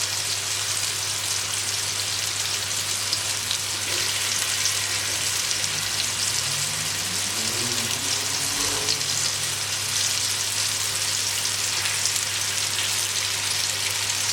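Goat meat frying in hot oil in a pot for Jamaican curried goat, a dense, loud and continuous sizzle close by, steady throughout with no talking and a faint rising tone partway through.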